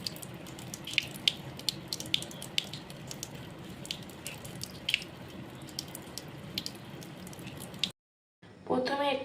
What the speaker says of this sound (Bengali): প্রথমেই আমরা মুখটাকে ভালো করে ক্লিন করে নেব।